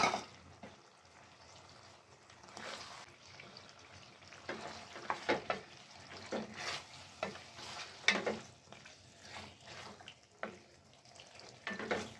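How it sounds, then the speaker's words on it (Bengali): Duck meat stir-fried with oil and spices in a pan, giving an irregular run of sizzling and scraping stirring strokes for about twelve seconds, close and fairly loud, with no talking. "তেল মশলার সাথে পাঁচ মিনিট একটু কষিয়ে নেব"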